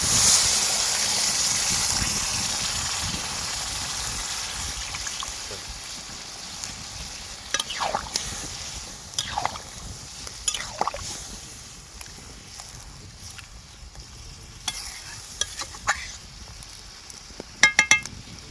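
Water poured into a pan of simmering butter chicken sets off a loud hiss that gradually fades to a softer bubbling simmer, followed by a few sharp clinks of utensils near the end.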